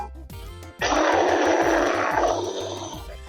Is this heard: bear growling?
yes